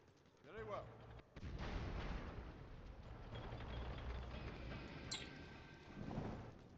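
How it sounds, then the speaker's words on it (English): Artillery bombardment in the strategy game Civilization 4, with a heavy wash of booming cannon fire and explosions rolling on continuously, loud and dense, with a few sharper mechanical clanks on top. "Then we can do some bombardment with the artillery."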